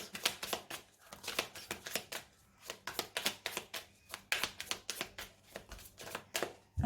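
A deck of tarot cards is cut and shuffled by hand: a quick run of crisp, close card riffles and slaps in an uneven rhythm, soft overall, with no one talking.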